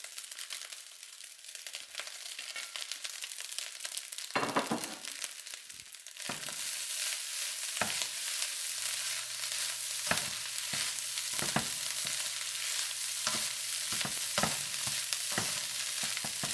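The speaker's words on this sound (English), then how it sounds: "And now you're gonna put the shrimp into it too." Shrimp hitting a hot pan for ginger shrimp fried rice, setting off a loud, steady sizzle that runs continuously, with sharp crackles and a few stirring scrapes and clacks scattered through.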